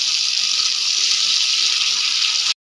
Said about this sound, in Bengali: অল্প সামান্য জল দিয়েছি